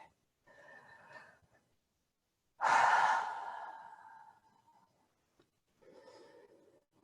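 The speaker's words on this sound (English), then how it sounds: "A few more nice slow breaths here." Slow, deep breathing during a yoga flow, heard close and quiet: a soft inhale, then a louder, longer exhale that sighs out and fades, then another gentle breath starting after a pause.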